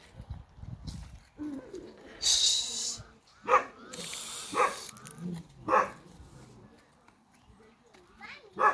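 Dogs bark in several sharp bursts on an upcountry farm, mixed with pigeon-like cooing and other background sounds, fairly close and loud.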